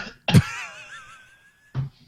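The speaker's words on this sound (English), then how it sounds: "Started coughing" A person coughs from a tickled throat, one sharp cough trailing into a strained, wavering wheeze, then a second short cough, close and fairly loud.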